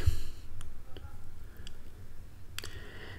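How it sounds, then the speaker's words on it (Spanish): A mouse click at a computer while a text-to-SQL tool is being operated, a few soft, brief clicks over low background hum with no talking. "Hacemos clic."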